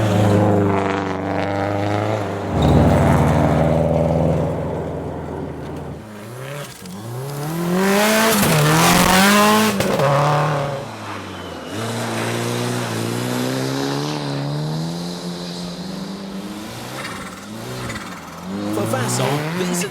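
Rally cars race along a forest stage, engines revving hard and rising and falling in pitch as cars pass close by, loud and continuous with a commentator talking over them.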